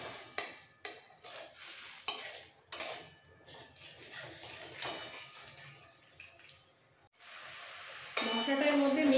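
A spoon stirs ginger paste and radhuni paste in a pan, with irregular scrapes and metallic clinks against the pan up close. A brief louder hiss of cooking follows at the end.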